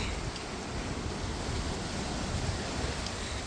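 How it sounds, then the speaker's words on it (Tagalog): Steady, strong wind roars across the microphone in a broad continuous rush on the island of Bermuda, with no voices or other distinct sounds. "Lakas ang hangin."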